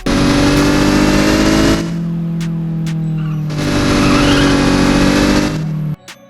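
A car engine in the Car Driving mobile game revs hard in two long, loud bursts, dropping to a steady idle hum between them, with tonal engine whine and no talk.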